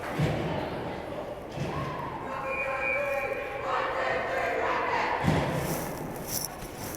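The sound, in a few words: team crowd chanting a 1-2-3 Rockets cheer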